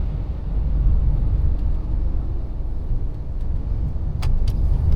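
A tanker truck driving on a road toward a wash, heard from inside the cab as a steady low engine rumble and road noise, with a few light rattles near the end.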